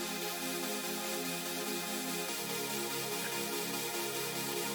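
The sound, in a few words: textured synth chords made with Serum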